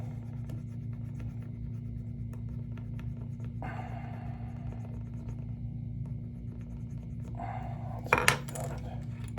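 Plastic engine parts are cut off the sprue of an AMT 1968 Shelby GT-500 model car kit, making faint, close scraping strokes over a steady low hum, then a sharp clatter near the end.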